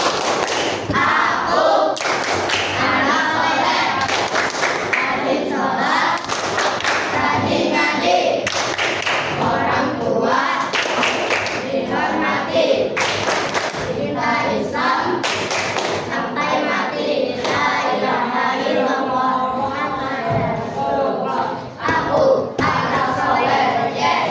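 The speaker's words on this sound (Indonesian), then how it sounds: "Kita tepuk anak soleh lagi biar semangat belajarnya" A classroom of children claps out the rhythmic 'tepuk anak soleh' chant, a close, steady run of sharp handclaps and thuds lasting throughout, with a teacher's voice and children's voices mixed in under the claps.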